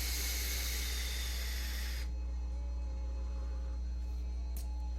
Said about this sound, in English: You can take a listen to it. You can hear how much air is coming into it